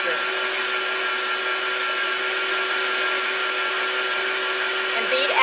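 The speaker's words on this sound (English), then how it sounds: "and beat after each addition." An electric mixer beats eggs into blueberry coffee cake batter with a steady, even motor whine that holds at the same level throughout and ends in a brief clatter.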